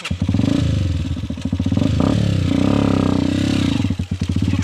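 A motorcycle engine fires up and runs close by with a loud, rapid pulsing idle, rising into a few revs and dipping briefly before surging again; the rhythmic thumping exhaust stays prominent throughout with no talking.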